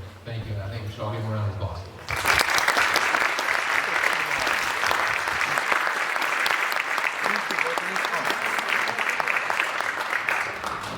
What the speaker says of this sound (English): I think we should all give them a round of applause